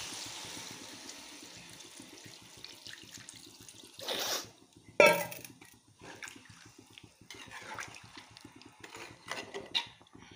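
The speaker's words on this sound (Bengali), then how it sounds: "এখন আমি জল এড করে দেবো।" Water poured into a pan of frying vegetables for a raw banana curry, a hiss and splash in short bursts over a soft background sizzle, close and moderately quiet.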